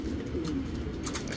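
Racing pigeon, a male flying bird in moult, cooing close by in a loft, a short low soft coo amid steady background noise.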